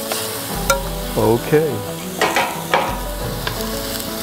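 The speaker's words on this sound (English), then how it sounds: "You hear that sizzle?" Turkey burgers sizzling in hot oil in a stovetop pan, a loud continuous crackle and hiss with spitting bursts, and a voice speaks briefly over it.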